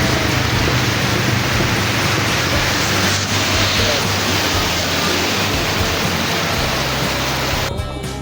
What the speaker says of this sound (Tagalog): Buti saglit lang yung ulan.